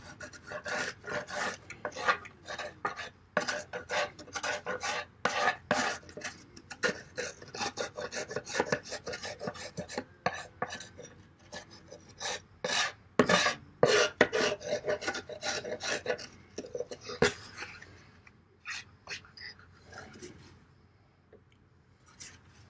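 Steady rough scraping of a pocketknife blade planing wood in repeated strokes, close and dry, tapering off and fading near the end.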